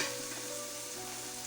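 Goat brain (maghaz) fries in a pan with a steady, close, dense sizzle that holds at an even level throughout, with no talking.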